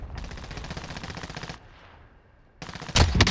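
Rapid automatic gunfire in a battle-royale style video game, dense bursts of loud shots for over a second, a short lull with faint background, then louder close shots resuming.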